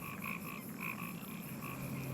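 Frogs croak in a Miami swamp, repeated pulsing calls in a steady rhythm, faint and somewhat distant over a low background hum.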